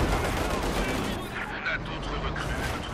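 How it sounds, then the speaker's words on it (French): Barrage gunfire in the video game Company of Heroes 2 rolls on as dense, continuous shooting and booming impacts for a few seconds, loud and close, with a muffled voice beneath it. "Avec celui que je viens de récupérer, je fais un tir de barrage."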